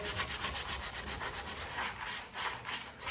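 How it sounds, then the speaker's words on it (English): Wood is sanded by hand with 120-grit sandpaper in quick, steady back-and-forth rubbing strokes, close and continuous with no pauses. "I just want to go over this with a little 120 grit."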